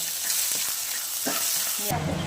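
A salted food mixture sizzles in a pot while being stirred, a continuous close hiss with a few soft scraping strokes, ending in a brief low rumble.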